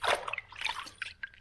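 Paint remover is rinsed off wood with water, giving a brief close-up splashing and trickling with small drips and sloshes.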